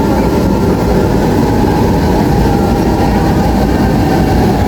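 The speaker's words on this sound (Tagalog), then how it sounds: "Isinakay nga namin yan sa tren si Jude para nga ma-experience niya naman kung paano nga sumakay dito sa train" Steady, loud rumble of a passenger train running along rails near Avenue Station in Cavite, with continuous low-frequency roar and rattling throughout, no talking.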